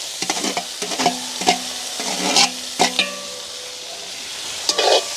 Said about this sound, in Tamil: இதை வந்து அப்படியே கலந்து விடுவேன்